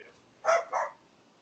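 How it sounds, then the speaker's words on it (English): A dog gives two quick barks in close succession, moderately loud and near, with quiet background noise and no talk. "And the dog says, amen"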